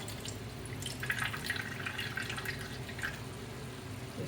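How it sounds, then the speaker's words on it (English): Juice drains from crushed pineapple pressed down by hand in a cup, a faint, close trickle of dripping liquid with no talk. "push your hand in your cup and just drain some of those juices off"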